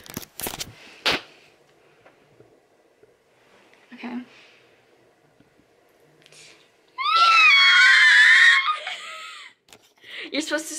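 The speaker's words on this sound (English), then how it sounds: "You're supposed to scream like you're dying." People scream in one loud, sustained burst midway through, with shrill wavering cries amid sparse sharp knocks and a few brief voices before and after.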